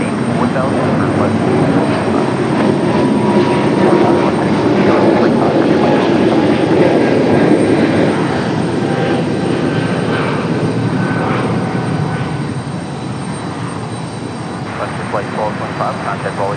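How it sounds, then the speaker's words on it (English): A Frontier Airlines jet, flight 1225, departs Raleigh-Durham International Airport, its engines roaring steadily and loudly throughout before easing slightly toward the end, with faint talk in the background. "And there it is, Frontier Flight 1225"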